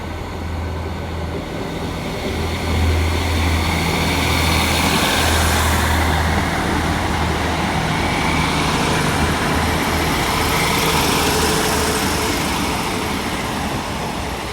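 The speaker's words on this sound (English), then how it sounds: "Departing now is the Transport for Wales service to Cardiff Central" A Transport for Wales train to Cardiff Central pulls out of Cheltenham Spa station, a loud, steady low diesel rumble with wheel and rail noise that holds throughout.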